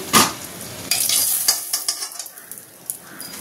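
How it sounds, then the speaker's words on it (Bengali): Large chunks of eggplant frying in oil in a pan, with crackling sizzle and a series of sharp stirring and spatula knocks that ease into quieter frying. "এই যে মাছের ঝাল করব বলে বেগুনগুলোকে ভেজে নিচ্ছি"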